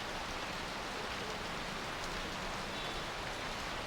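Heavy rain pours steadily outside in the noir point-and-click adventure game Noir Storm, a dense, even hiss that holds without letting up and plays alone with no talk.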